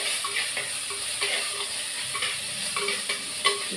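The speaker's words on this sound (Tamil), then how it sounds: "கட் பண்ணி வச்சுருந்த வெங்காயம் கருவேப்பிலையும் போட்டுக்கிறேன், வதக்கிக்கிறேன்" Chopped onions and curry leaves sauté in a hot pan with a constant bright sizzle, broken by occasional soft scrapes as they are stirred, close and alone.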